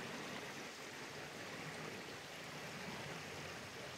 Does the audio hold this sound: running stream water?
yes